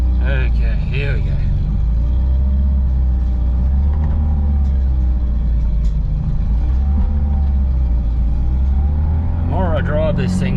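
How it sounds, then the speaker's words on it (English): A Datsun 240Z fitted with a new exhaust drives along with a steady, loud low engine drone that rises and falls through gear changes, with a person talking over it at the start and end. "The more I drive this thing, the better it's running"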